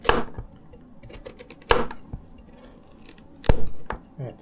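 A new Pirge chef's knife chops through a hard carrot on a board, three sharp, loud, close cuts spaced over a few seconds with quiet between them and no speech.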